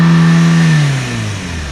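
A used car's engine revs up loudly and close, then the pitch falls away as it settles back toward idle, a single short rev with no talking.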